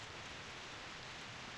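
Steady rain falls in the video game Reverse: 1999, a soft, even hiss of drops with no other sounds over a brief moment.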